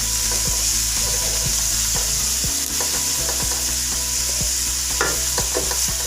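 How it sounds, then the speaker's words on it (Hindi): Mixed vegetables and onions sautéing in a pan give a loud, continuous sizzle with regular scraping strokes of a spatula, close up and without talk. "तो सारी सब्जियों को बहुत अच्छे से सौते कर लेंगे"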